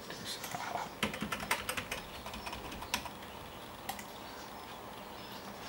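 Password being typed quickly on a T-Mobile Galaxy S2 phone, a scattered run of soft, close tapping clicks that bunch together at first and then thin out, faint and quiet against a low background.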